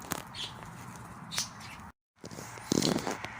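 Birds chirp outdoors in a churchyard at Morpeth, with short bright calls scattered over faint ambient background, a brief dropout midway, then more chirps.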